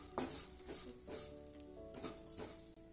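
Cumin and fenugreek seeds roasting in hot oil for a village-style dish give a steady, close sizzle with stirring noises throughout. No one speaks.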